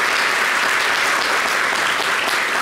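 A French television studio audience claps in sustained, dense applause, loud and even throughout with no break.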